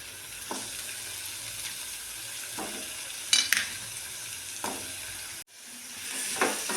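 Cucumber bhaji sautéing in a pan, a steady close sizzle with a few sharp scraping stirs of a spatula, then a brief cut before the frying hiss returns; no voices.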